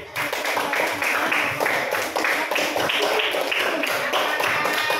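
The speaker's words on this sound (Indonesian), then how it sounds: "Oke, kasih tepuk tangan." A school class claps during a lesson, a lively run of many hands with a loosely rhythmic, pulsing pattern, fairly close and lasting several seconds.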